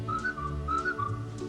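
A person whistles a bright, lilting melody line with smooth sliding notes over a full band accompaniment, clear and prominent at close range.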